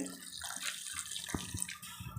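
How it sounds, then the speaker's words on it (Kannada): Brief splashing pour of a small glass of water into a pan of ivy gourd, a short liquid gush with a few drips, heard close and fairly quiet. "ಒಂದು ಚಿಕ್ಕ ಗ್ಲಾಸಷ್ಟು ನೀರು ಸೇರಿಸ್ಕೊಳ್ತೀನಿ ತೊಂಡೆಕಾಯಿ ಬೇಯೋದಕ್ಕೆ."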